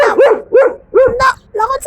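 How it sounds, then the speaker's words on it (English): Several dogs bark and yap back and forth at close range in a rapid, squabbling exchange of short, sharp barks with brief pauses between bursts. "The dogs are arguing."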